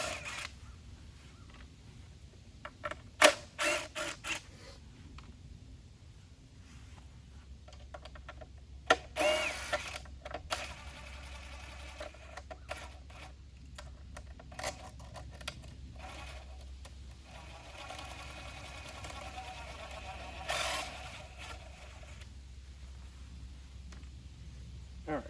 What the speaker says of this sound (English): Let's take all these little short screws out of here.